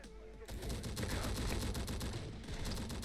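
Rapid, sustained gunfire in a tactical military shooter game, a dense barrage of repeated shots that starts after a brief quieter moment and stays loud throughout, with faint voices in the mix.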